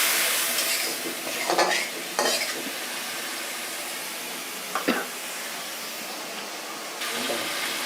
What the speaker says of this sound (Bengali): এখন মশলাটাকে আমি সুন্দর করে কষিয়ে নেব।